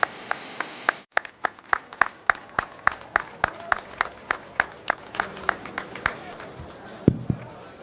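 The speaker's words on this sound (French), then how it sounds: "Sous vos applaudissements" A small group at a Senegal squad-announcement press conference claps in sparse, evenly spaced strokes, each sharp smack distinct, continuing in a slow rhythm for several seconds.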